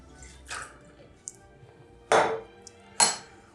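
Dry vermouth is stirred with ice in a mixing glass, giving a few sharp, bright clinks and rattles spaced apart over a quiet background, with no talking.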